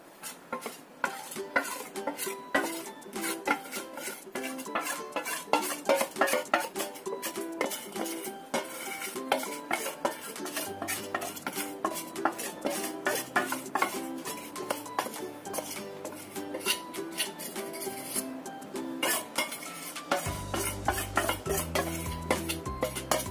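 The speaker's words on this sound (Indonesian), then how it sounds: "Kemudian tambahkan margarin serta coklat tadi ya, yang sudah dilelehkan" A spatula scraping and stirring brownie batter with melted margarine and chocolate in a bowl, a steady rhythmic series of close clinks and scrapes that continues throughout, with no talking.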